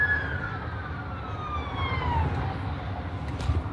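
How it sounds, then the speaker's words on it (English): Police car sirens zooming past on a city street, a falling wail that drops in pitch as the cars pass and fade, over a low traffic rumble. "That was scary as hell having all of those police cars zoom by me."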